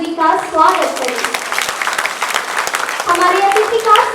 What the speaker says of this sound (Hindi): आइए हम सब मिलकर जोरदार तालियों के साथ श्री शहंशाह आलम जी का स्वागत करें